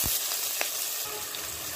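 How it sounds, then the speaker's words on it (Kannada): Chopped onion with green chillies and curry leaves frying in hot oil for okra masala, giving a steady close sizzle with a brief stir-scrape, no voices. "ಈರುಳ್ಳಿ ಚೆನ್ನಾಗಿ ಫ್ರೈ ಆಗಿದೆ"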